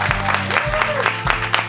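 A studio audience applauds on a television show, bursts of clapping swelling under overlapping voices and speech close by.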